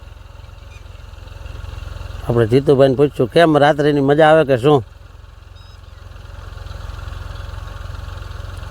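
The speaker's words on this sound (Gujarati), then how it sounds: "જો ટ્રેક્ટર પાછું વળીને" A low, steady tractor engine idles and rumbles throughout as the tractor turns back in a field, with someone talking over it for a couple of seconds in the middle.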